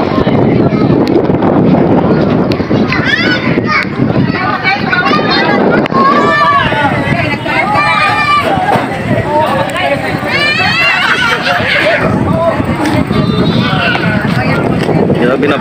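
Strong, cold wind buffets the microphone at a Tagaytay overlook facing Taal Volcano, a steady loud rumble throughout with a person talking over it.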